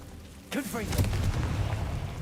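Confringo fire spell from a video game, a sudden blast that erupts after a brief quiet lead-in and rolls on as a sustained rumbling boom with crackle.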